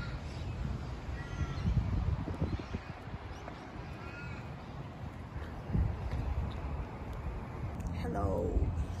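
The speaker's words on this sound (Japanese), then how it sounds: "カラスの鳴き声がなんかすごい、" Australian crows caw several times from trees in a park, the calls rising over open-air ambience and voices nearby, with a louder call near the end.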